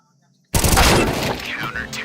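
Gunfire in Counter-Strike 2 erupts suddenly after a brief silence, a loud dense burst of shots and crackling impacts that fills the rest of the moment.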